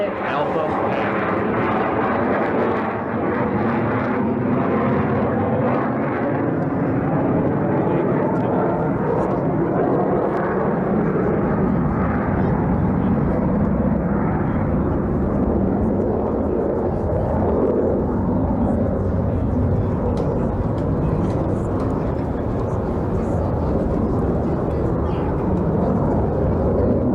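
An F/A-18 Hornet makes a high alpha pass at the 1990 Reno Air Races, a continuous loud, broad jet roar that carries through the whole stretch while an announcer talks over it.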